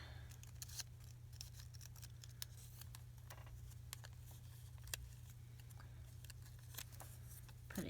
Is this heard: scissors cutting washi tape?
yes